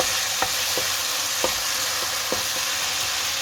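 Ingredients for tomato rice sautéing in a pan, a continuous close sizzle punctuated by about five sharp spoon scrapes at uneven intervals, with no voices.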